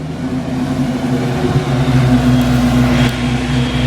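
A Ford Mustang Fox body engine with MagnaFlow exhaust idles close by in a steady, loud, low burbling rumble that holds evenly throughout, with no voices.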